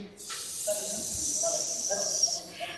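A human voice imitates a slithering snake with a long, sustained hiss, breathy and close, that fades out after a couple of seconds.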